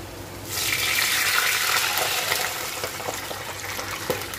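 Water pours into a hot pan of frying food, a sudden loud gushing hiss that bursts in and then settles into a steady bubbling sizzle, close by with no voices.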